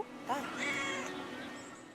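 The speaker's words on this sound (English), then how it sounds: "this cat really likes the younger brother" A cat meows once, then again more softly, in the video game Brothers: A Tale of Two Sons, a short close call over quiet game ambience.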